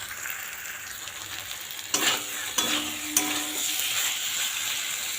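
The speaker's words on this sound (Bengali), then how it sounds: "এটা আমি আরেকটু ভালো করে কষিয়ে নেব" Pointed gourd curry sautéing in a pan, a steady broadband sizzle with three sharp scraping stirs from a spatula partway through, close and fairly loud, no voices.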